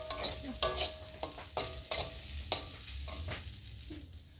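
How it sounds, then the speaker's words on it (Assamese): Dal frying in a pan with Maggi masala for kachori filling, stirred repeatedly so a spoon scrapes and clacks in irregular bursts over a steady low sizzle, close and moderately loud. "মই দালিখিনি আৰু অলপ সময় ফ্ৰাই কৰি ল'ম"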